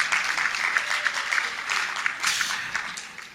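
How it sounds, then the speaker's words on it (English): Audience applause at a medical school graduation ceremony, a dense, fluttering patter of many hands clapping at once that swells and dips without pause. "they do deserve a round of applause"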